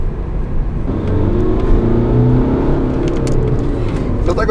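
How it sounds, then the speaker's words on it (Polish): A BMW X1 with a 2.0 diesel engine accelerates, its engine drone rising steadily in pitch under a layer of road and cabin noise, heard from inside the car. "sam w sobie silnik bardzo przyjemnie brzmi, pomimo, że to jest diesel, dość wysoko się kręci"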